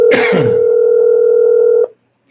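A steady telephone tone hums loudly for about two seconds after a brief cough, then cuts off abruptly.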